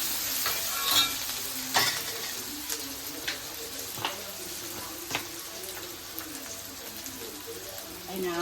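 Onions sautéing in a pan give off a soft sizzle, broken by regular sharp clinks of a spoon stirring against the pan, with birds cooing faintly in the background.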